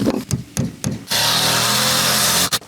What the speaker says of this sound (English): As you can see, this isn't the fastest, most powerful impact driver.